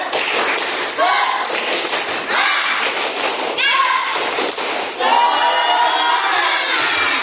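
An Indonesian school class performs a rhythmic spirit clap, loud repeated group claps and thumps in a patterned beat with voices chanting along, the clapping intensifying toward the end.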